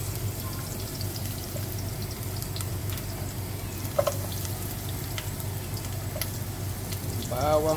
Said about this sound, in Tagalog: So right now mainit na yung oil ko. So ilalagay ko lang ang ating bawang.